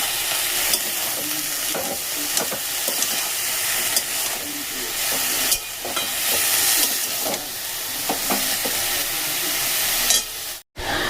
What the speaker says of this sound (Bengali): আবার এগুলোকে খুব ভালো করে মিশিয়ে নেব।